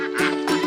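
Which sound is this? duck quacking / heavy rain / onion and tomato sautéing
duck quacking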